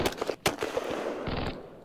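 A quick cluster of sharp cracks and pops from units firing in a Panzer Battles North Africa 1941 wargame, several bursts in rapid succession followed by a brief rumbling tail.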